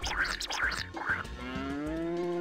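A cow moos while being milked in the farming video game Harvest Moon Magical Melody, three short rhythmic scratchy sounds followed by one long, steady, close low moo with no talk.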